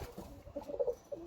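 Soft, close pigeon coos from birds in a loft, a few low throaty warbling calls in quick succession, quiet and without talking.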